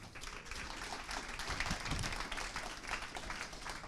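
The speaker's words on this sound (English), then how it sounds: "could you give a big round of applause for the people who are going to be on it" Conference audience applauding the panel at a tech summit, a steady wash of many hands clapping at moderate distance, continuous and fairly even throughout.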